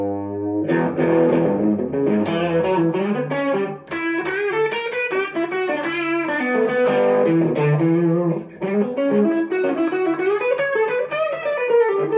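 Overdriven electric guitar, a Telecaster through a Marshall stack amp, plays a continuous, melodic lead with sustained distorted notes, loud and close, with brief dips in between phrases.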